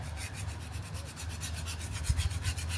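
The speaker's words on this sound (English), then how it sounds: "I'm wiping all the timber down with wax and grease remover" A cloth rubs steadily along the timber of an FJ45 Landcruiser tray build, wiping it down with wax and grease remover: close, continuous rasping strokes in a repeating rhythm, growing slightly louder near the end, with no talking.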